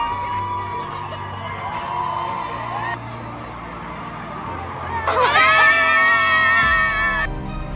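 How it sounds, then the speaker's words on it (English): Crowd screaming and cheering in the Scream Tunnel along the Boston Marathon course, a sustained wall of high-pitched shrieks that swells louder near the end, with general crowd babble underneath. "The Scream Tunnel is an experience you cannot miss if you're in Boston watching this iconic Boston Marathon"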